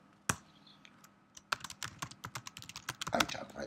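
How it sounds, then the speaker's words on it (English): Someone types a password on a computer keyboard at a terminal, a single sharp keystroke followed by a pause and then a quick, steady run of close key clicks growing denser toward the end. "I type my password"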